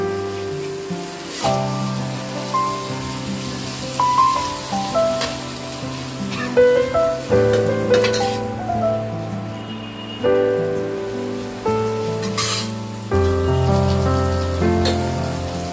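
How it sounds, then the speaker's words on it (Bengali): Fried eggplant pieces are turned and stirred through a spice mixture in a hot pan, giving a steady sizzle with soft scraping and stirring knocks over continuous background music. "আমি এর মধ্যে বেগুনগুলো দিয়ে দিচ্ছি, ভেজে রাখা বেগুনগুলোকে দিয়ে দিলাম। বেশ উলট পালট করে দিচ্ছি মশলাটার সঙ্গে যাতে মিক্স হয়ে যায়।"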